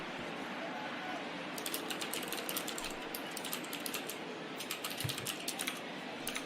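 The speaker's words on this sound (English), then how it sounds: "I have a mechanical keyboard, so I apologize if that's loud when I'm typing up" Mechanical keyboard keys clatter in irregular bursts of quick, crisp clicks over a steady background hiss.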